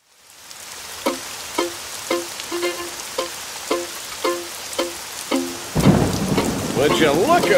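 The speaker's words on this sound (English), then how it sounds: "Would you look at all the rain?" Steady rain with a series of evenly spaced rumbling thunder hits, followed by a louder burst of storm noise.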